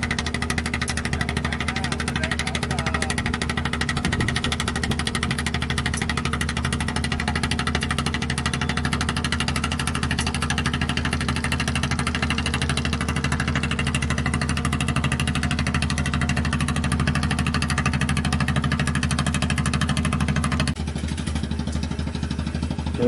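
A Vietnamese fishing boat's engine near Hon Tre chugs steadily as the boat comes in, a loud, close, continuous mid-pitched drone with vibration that runs throughout and shifts slightly near the end.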